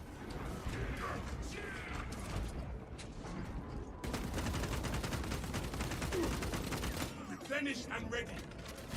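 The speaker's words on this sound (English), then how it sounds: "Oh, he is shooting me now." Enemy gunfire in Space Marine 2, dense mechanical clatter and sustained automatic bursts filling the soundscape, heaviest in a loud stretch through the middle, with a voice speaking over it.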